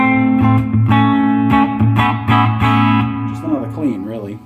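Guitar through a Fender Champion 100 solid state 2x12 combo on its jazz setting with a little reverb, clean warm chords strummed and let ring, ending in bent notes, loud and close.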